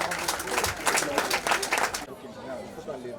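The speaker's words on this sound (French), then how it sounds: "Applaudissez pour le physicien et le matheux en même temps." An audience at a secondary school excellence ceremony claps for a top student, with loud, dense clapping for about two seconds before it suddenly stops and a voice speaks over the quieter room.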